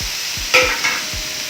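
Cumin powder, garam masala and coriander powder being stirred into a mashed breadfruit parota mixture, a short burst of soft scraping and mixing strokes with a couple of light clinks, close and steady.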